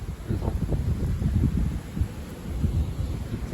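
Strong March wind gusts during a shower, recorded close up as a steady low roar with rough microphone buffeting that surges and dips, with no one speaking.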